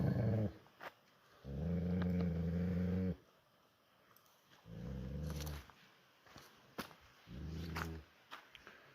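A dog howls and wails in long drawn-out bursts, three separate cries with quiet gaps between, fairly close.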